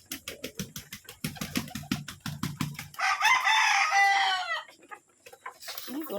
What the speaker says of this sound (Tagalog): Ito ang aming mga tandang